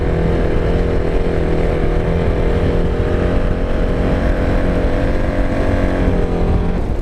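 A KTM Duke 690 motorcycle, leaking gas, has its engine running loud and close with a steady, throaty roar and slight rises in pitch, and no talking.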